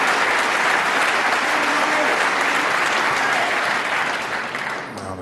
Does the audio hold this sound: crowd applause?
yes